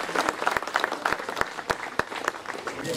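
Dense, loud applause fills a hall at an award ceremony as an honour with a silver medal and Peshwa-style turban is presented to Nitin Gadkari, with sharp individual claps standing out from the steady crowd clapping.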